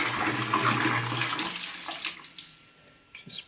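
Drained, dirty boiler water from a Vaillant heating system poured into a toilet bowl, a steady close splashing gush that tapers off into a few trickles and drips toward the end.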